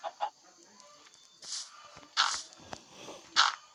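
Chickens on a Minecraft farm cluck in a few short, separate bursts, with a zombie baby riding one, the calls close and clear over a quiet background.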